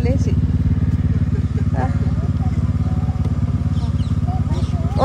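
A motorcycle engine runs steadily and loud throughout, with a continuous low rumble and sporadic voices and clatter over it.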